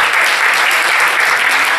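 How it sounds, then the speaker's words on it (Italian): Dense, steady applause from an audience at a dubbing festival award ceremony, a brief loud burst of many hands clapping together. "Prendi di tutto il tuo applauso."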